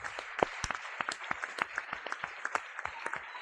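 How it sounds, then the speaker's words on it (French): A church congregation claps along at a Sunday evening service, steady rhythmic hand claps, fairly distant and soft, with a murmur of voices underneath. "Acclamons très fort."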